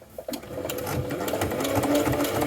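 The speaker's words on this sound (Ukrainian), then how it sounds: "Спочатку обмітуємо боковий шов," A sewing machine overcasts the side seam of men's trousers, running as a close, steady, rapid mechanical whir that builds and holds throughout.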